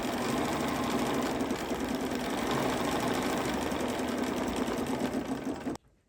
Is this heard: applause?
no